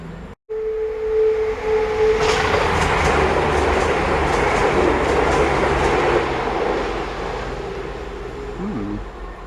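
A model train rumbles past over a bridge with a sustained broadband roar, a steady tone ringing through it early on, and faint rhythmic clatter near the end.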